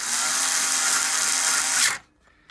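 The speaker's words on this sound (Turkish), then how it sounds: "Şimdi makineyle sıkıyoruz yavaşça." A power screwdriver drives in a brake disc screw on an Onvo OV-011 scooter, a loud steady whirring buzz for nearly two seconds that stops abruptly, leaving near silence.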